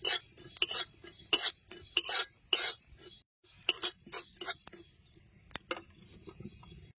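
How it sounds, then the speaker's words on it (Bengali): Fennel and cumin seeds dry-roast in a dry pan while a utensil scrapes and taps against the metal in quick, irregular strokes, close and fairly quiet. "শুকনো খোলায় এবার দুটো শুকনো মশলা ভেজে নেবো, মৌরি আর জিরা সুন্দর করে ভেজে নেবো"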